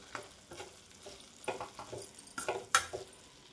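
Carrot halwa with almonds being stirred in a pan, soft repeated scraping strokes with faint sizzling and one sharp metallic clink near the end, close and quiet.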